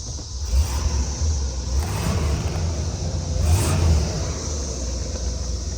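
A 1970 Chevrolet Impala convertible engine idles with a low, steady rumble and revs up gently twice, each rise soft and brief, heard close with no talking.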